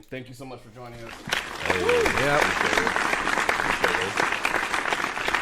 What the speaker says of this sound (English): There's applause playing right now.